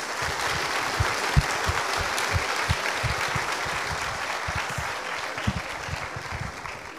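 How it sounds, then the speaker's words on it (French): Sustained applause from a graduation audience at a licence diploma ceremony, dense and steady clapping filling the room for several seconds with a few sharper claps standing out. "je vous applaudis"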